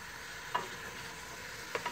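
Meat sizzles and fries in a cooking pot as it is stirred, a steady low crackle with two brief louder scrapes of stirring near the middle and end, close and alone with no voices.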